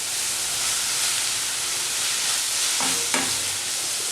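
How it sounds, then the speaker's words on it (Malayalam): Onions with curry leaves, salt and chicken frying in a pan for chicken unnakkaya: a steady close hiss of sizzling oil with a couple of brief stirring scrapes near the end, no talking. "വീണ്ടും എല്ലാം കൂടെ നന്നായിട്ട് വഴറ്റുക."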